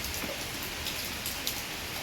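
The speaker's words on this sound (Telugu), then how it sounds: "చూడండి వాటర్ ఎంత వస్తుందో, ఎట్లా వర్షం పడుతుందో." Heavy rain pours down steadily in a dense, continuous wash of hiss and spatter, close and even throughout with no talking.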